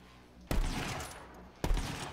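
Gunfire in the shooter video game Borderlands 3, two sharp loud bursts about a second apart, each followed by a ringing noisy decay, with no talk.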